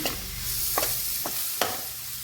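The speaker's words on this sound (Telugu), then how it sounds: "అటు ఇటు కలపండి బాగా ఫ్రై అవ్వనివ్వండి" Bitter gourd pieces frying with garlic chili powder in a pan, a steady close sizzle with several distinct scraping stir strokes spaced through it, no voices.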